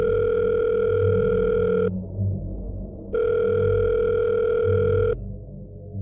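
A telephone rings in two long electronic bursts of about two seconds each, separated by a short pause, over a low rumbling background, with no one speaking.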